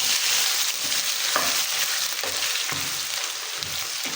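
Onions sautéing lightly in a pan as the base for Lahori black pepper chickpea curry, a steady close sizzle with occasional stirring scrapes throughout, no voices.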